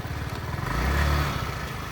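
A used 2019 50cc gas scooter engine idling nearby, a steady low putter that swells slightly midway through, with no talk over it.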